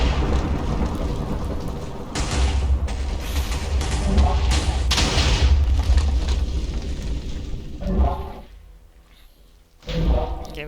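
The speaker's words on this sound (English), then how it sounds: "I don't think that lightning really affects him." Lightning and thunder in a Minecraft mob battle, a loud rumbling crash with rain-like hiss that swells and fades over several seconds, then another crack near the end, with speech mixed in.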